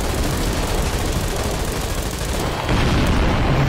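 A stink bomb in Garry's Mod goes off amid dense, continuous booming and rumbling, the blasts merging into a steady loud roar that shifts character near the end with no voices over it.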